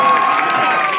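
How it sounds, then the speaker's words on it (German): A concert audience applauds and cheers in a brief, dense wash of crowd noise, loud and continuous, with a sustained tone running through it. "Mach mal bitte einen riesigen Applaus für Yasemin."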